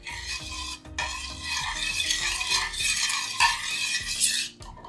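A homemade all-purpose cleaner mixture is stirred steadily in a vessel, a continuous scraping, rasping swirl with rhythmic strokes close up and no voices.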